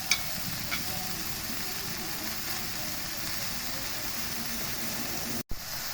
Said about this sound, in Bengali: এখন লাউটা ভালোভাবে ভেজে নেবে।